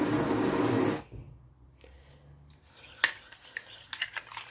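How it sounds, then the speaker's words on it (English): A spoon stirs jam in a bowl while a cake is being made: a rushing wash opens, then soft scraping and a few light clinks of utensil on bowl, quiet and close, with a faint hose running in the background. "I'm just going to stir it round like that"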